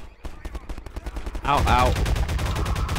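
An automated turret in the Half-Life 2 Synergy co-op mod fires a fast train of shots. The burst carries on under a man's short pained cries near the end.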